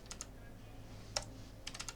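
A computer keyboard clicks in a few quiet, separate bursts of keystrokes, close-up, with short pauses between them over a faint room hum.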